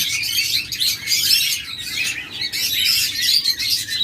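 Doves and lovebirds call together in a bird shop, a dense, continuous chorus of close chirps and tweets with no talking.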